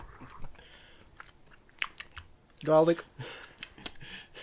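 Crunchy fried chicken being chewed close up, a few crisp bursts of crunching around the middle of the stretch, with scattered clicks and faint background sounds around it.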